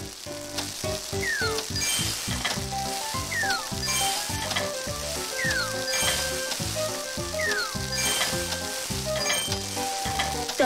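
Stir-frying in the video game Cooking Mama Cookstar makes a continuous synthetic sizzle over a rhythmic musical backing, with repeated rising chime-like tones and clinks throughout.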